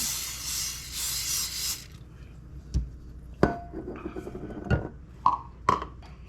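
A short hiss of aerosol cooking spray, then several sharp knocks and clatters of kitchenware.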